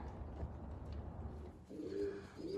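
Young racing pigeons lift off from a rooftop, giving soft wing flutters and faint cooing at a distance under steady background noise.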